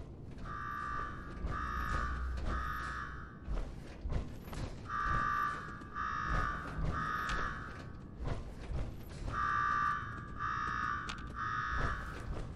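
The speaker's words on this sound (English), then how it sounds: "Now go shut off that damn alarm" An alarm rings in Fallout 4, repeating loud, tonal bursts of about a second each, in groups of three separated by short pauses, over a low mechanical rumble.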